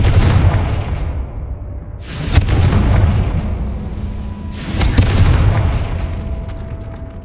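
Confringo spell blasts in Hogwarts Legacy, two heavy booming explosions a few seconds apart, each trailing off in a rumbling roar with no voice over them.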